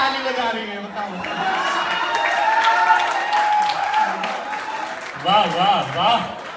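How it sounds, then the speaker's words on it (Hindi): Audience clapping and cheering at a college poetry recital in a hall, steady applause with crowd shouts throughout and a voice speaking over it near the end. "लड़कियां भी ताली बजा रही है"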